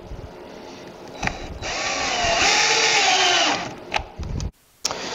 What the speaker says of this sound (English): now I'll take my little screws and try to put the screws in without moving anything